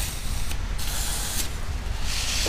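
Aerosol spray degreasing the transfer case surfaces of a UAZ Patriot during repair: three short, close hissing bursts of spray separated by brief pauses, over a low background hum, with no voices.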